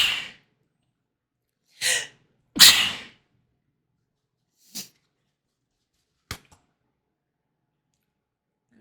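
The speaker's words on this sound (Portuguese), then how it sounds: "Aí eu vou espirrar de novo." Several short, sharp sneezes burst out one after another, with a quieter one and a faint click trailing after, each separated by silence.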